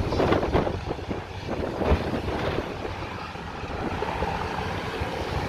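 Strong wind buffets a camera microphone outdoors beside a microwave and FM transmission tower site, a loud continuous rumbling roar with gusty surges throughout.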